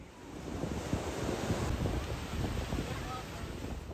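Ocean waves wash in at a Sydney beach on a hot day, a continuous close roar of surf mixed with wind buffeting the microphone.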